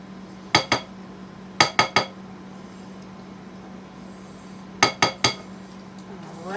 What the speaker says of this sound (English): now we're going to get in here with our spoon or scraper. Try to clean this off as much as possible.